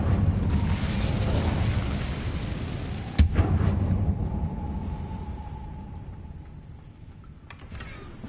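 Incendio fire spell cast in Hogwarts Legacy, a sharp burst followed by a roaring, crackling rush of flame over a dense rumbling game backdrop, with a second fainter hit near the end.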